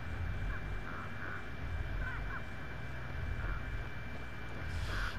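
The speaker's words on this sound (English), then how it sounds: "He's literally got three crows on him." Several crows caw in a steady, evenly spaced series over an AFK player in the Dead by Daylight video game. The calls are faint and sit under a constant hum, and a burst of noise comes at the end.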